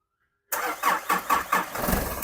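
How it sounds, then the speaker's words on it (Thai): A 2002 Isuzu D-Max 3.0-litre diesel with its engine cover off and a converted cable-operated injection pump cranks suddenly out of silence, giving a few rhythmic pulses before catching into a steady, loud, close-up idle. "ลองสตาร์ทเครื่องนะครับ มาฟังเสียงเครื่องนะครับ"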